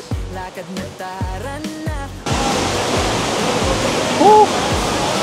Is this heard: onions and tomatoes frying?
no